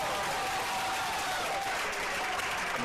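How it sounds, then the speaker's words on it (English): Steady, dense applause from a crowd at a men's college tennis match between Baylor and TCU, filling the whole stretch at an even level without a break. "Just listen to the crowd."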